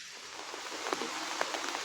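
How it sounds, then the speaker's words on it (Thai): Steady rain falls on a rural Thai plot, a soft, even hiss of drops with faint scattered patters, heard alone for a couple of seconds. "นี่ฝนมาเลยพี่น้องเนาะ"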